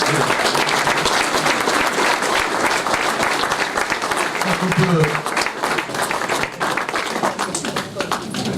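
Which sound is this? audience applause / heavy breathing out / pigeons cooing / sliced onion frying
audience applause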